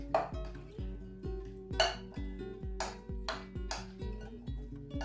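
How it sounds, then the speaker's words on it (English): A utensil stirs chickpea salad with avocado in a bowl, giving a run of rhythmic, ringing clinks against the dish, roughly two per second, close and fairly quiet, with no talking. "then I mix the two together"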